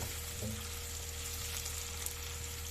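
Potato pieces frying in a pan for Bengali aloo posto, a quiet, steady sizzle with light stirring, soft and continuous with no talking.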